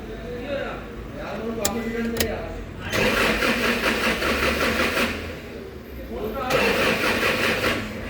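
Starter repeatedly cranking the engine of a 2011 Toyota Hilux with an ECM and crank sensor fault, which fails to start; two loud, sustained cranking bursts with a quieter pause between, close by, with no speech.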